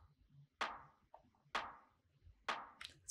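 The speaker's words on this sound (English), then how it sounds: "We have a snare layer." Quiet snare layer sample in a UK minimal house track: three soft, noisy hits spaced about a second apart, each with a brief decaying tail, faint and alone.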